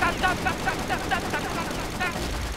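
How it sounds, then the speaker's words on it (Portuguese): Machine gun fire from the Crossfire shooter game rattles in rapid repeated bursts at an even rhythm. Game noise and a voice sit underneath the shots. "a metralhadora dele"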